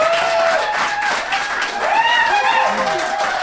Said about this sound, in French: ce sont des gens de Rimouski qui applaudissent comme ça